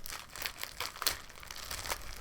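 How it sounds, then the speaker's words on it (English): Scissors cut the tape off a plant package, producing close, soft crinkling and snipping of plastic in quick irregular bursts without talk. "I'm gonna cut off the tape covering it."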